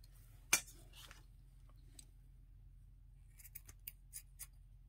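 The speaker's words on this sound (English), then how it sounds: "I just cut a piece." Scissors snip through a piece of fabric in a quiet room: one sharp cut, then a few faint clicks and a cluster of light snips near the end.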